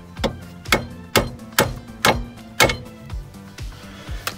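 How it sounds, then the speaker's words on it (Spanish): Hammer blows knock out a wheel bearing on a 2007 Kia Spectra, striking metal about twice a second in a steady series of close, sharp hits with a ringing tail. "se le da un par de golpes"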